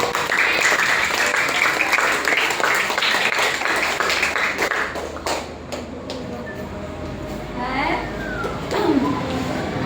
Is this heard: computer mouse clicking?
no